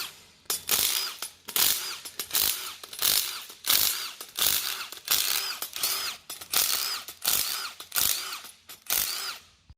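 Power ratchet driving nuts off a draper header's cutter bar in quick repeated whirring bursts, about a dozen evenly spaced pulls, close and loud with no talk.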